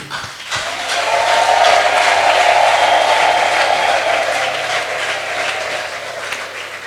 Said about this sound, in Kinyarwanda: Ndasaba abakristo twese dukoma amashyi, tuvugize Uwiteka impundu.